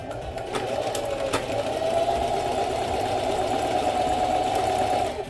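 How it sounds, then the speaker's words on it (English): A sewing machine stitches along the top edge of fabric in a steady, close, continuous whir with faint clicks near the start and no talking. "I'm just gonna flip over and stitch along the top."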